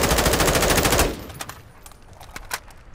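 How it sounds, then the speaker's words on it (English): SMG fire in the video game Warzone II, a rapid, loud automatic burst for about a second, then scattered single shots and clatter trailing off in the quieter game mix. "I was just testing out this SMG"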